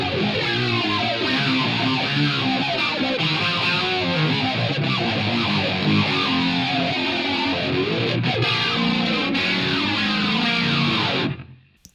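Electric guitar through a Line 6 Helix with the Growler filter effect, a dense, distorted, swirling filtered wash that plays continuously and then cuts off abruptly near the end.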